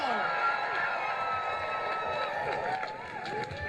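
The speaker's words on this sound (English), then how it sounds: "Let's hear a round of applause." A crowd at a student rally cheers and shouts in a loud, continuous roar of overlapping voices, with some clapping underneath that eases slightly toward the end.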